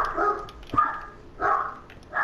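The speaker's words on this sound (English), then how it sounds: "I think my dog got louder than me" A pet dog barks loudly nearby in a home, giving four spaced barks over about two seconds with short pauses between them and no talking.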